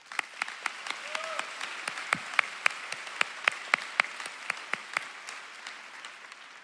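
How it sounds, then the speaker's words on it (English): A graduation ceremony audience claps for the Board of Education members, a steady wash of applause with sharp individual claps cutting through, moderately distant in a large hall. "Let's give them a round of applause."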